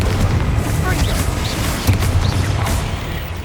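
Confringo fire spell explosions in the Hogwarts Legacy video game, loud rumbling booms and blasts that fill the scene in a dense, continuous barrage.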